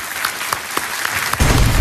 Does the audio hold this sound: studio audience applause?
yes